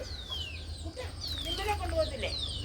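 Chicks and hens at a home coop make soft, rising and falling clucks and peeps in several bursts, over steady low background hum with faint talk nearby.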